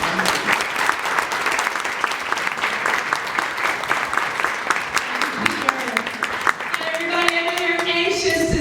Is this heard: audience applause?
yes